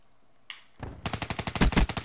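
Call of Duty: Black Ops 3 multiplayer gunfire: a single sharp shot, then a rapid automatic burst of about a dozen loud, close, evenly spaced rounds.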